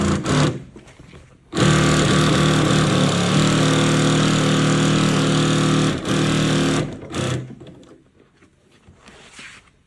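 A Dürkopp Adler 867 industrial leather sewing machine runs in a loud, close, steady whirring burst of several seconds, preceded and followed by quieter motor hum and brief start-stop sounds.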